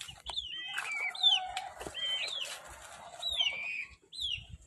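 Several chickens give repeated rising, squeaky calls over soft clucking, fairly close, in a quiet outdoor setting without speech.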